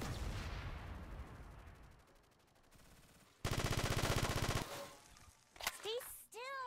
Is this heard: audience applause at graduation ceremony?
no